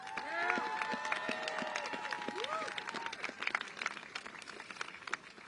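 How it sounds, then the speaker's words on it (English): Crowd at an Asian American Federation peace vigil in New York claps and cheers outdoors, a dense patter of hands with whistles and raised voices that gradually thins out. "can we give them another round of applause"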